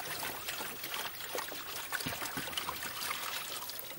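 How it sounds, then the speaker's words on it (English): Water, diluted at a bleach-like concentration, is poured steadily into a tray as a continuous close trickle and splash lasting several seconds, with no talking. "And I just pour that into a tray"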